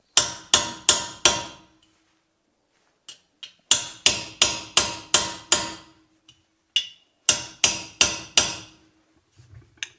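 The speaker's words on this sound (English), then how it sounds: "I can just hammer it into the 2mm sheet metal, steel by the way" Sharp metallic hammer strikes drive a knife blade into 2mm steel sheet metal, in quick bursts of four or five blows, with brief pauses and a few lighter taps between.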